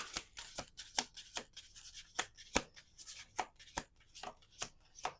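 Cards being shuffled in quick, crisp riffling bursts, repeated about a dozen times at an uneven rhythm, close and fairly quiet with no talking.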